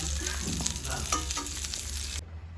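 Stuffed brinjal cooking in a pan, stirred as it fries: a steady sizzle with light scraping and clinks of a spoon, close and moderate, cutting off abruptly near the end, with no voices.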